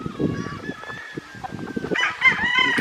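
Chickens cluck and a rooster crows at a chicken ranch in the mountains of Bamban in the Philippines, close and loud, with overlapping honking calls and a brighter crow rising near the end.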